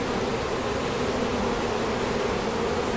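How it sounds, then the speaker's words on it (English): Italian honey bees swarm around an opened hive during a check, their buzzing a dense, steady drone that fills the air up close without a break. "I got bees everywhere."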